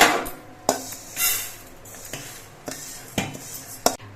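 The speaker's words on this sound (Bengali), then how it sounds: "এবার ডালটা আমি একটা পাত্রের মধ্যে নামিয়ে নিচ্ছি" Fried moong dal is moved from the pan into a pot, with a series of sharp metallic clinks and clanks at irregular intervals and soft scraping between them, close by.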